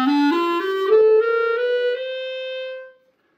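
Clarinet played with a low mouthpiece angle so too much reed buzzes, giving a harsh, uncontrolled tone: a short run of sustained notes stepping upward, bright and edgy, close and loud, alone without talk.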